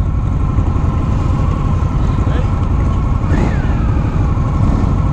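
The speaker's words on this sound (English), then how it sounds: "And this exhaust is nice and quiet." Steady low engine rumble of an idling 2019 Indian Scout Bobber motorcycle exhaust, continuous and fairly loud throughout, with faint background noise.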